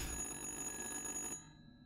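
A cordless telephone in a horror video game rings in a rapid electronic trill for over a second, then cuts off abruptly into quiet.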